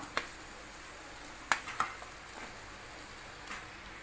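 Masala-coated potato pieces being stirred in a frying pan, with soft scraping strokes and a few sharp clicks of the spoon against the pan over a faint sizzle, no talk.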